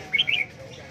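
A caged songbird at a bird market gives two or three quick, bright chirps close by, followed by quiet background murmur.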